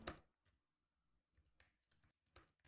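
A computer keyboard is typed on at close range to enter a Google search, a few soft, scattered key clicks in short bursts separated by silence.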